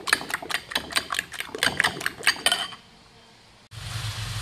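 A cooking pan of ampalaya with egg being shaken, a quick run of sharp metallic rattles and clanks in a steady rhythm that stops into quiet, followed by a rush of background noise.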